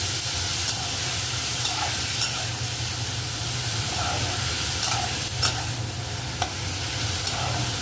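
Boiled radishes sizzle steadily in a hot pan for a traditional Bengali radish ghonto made with bori, with light scraping clicks from a stirring spoon cutting through the constant frying hiss.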